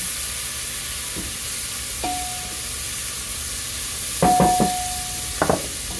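Garlic sizzles steadily in a pan with a constant hiss, broken by a few metallic clinks and scrapes of a utensil stirring.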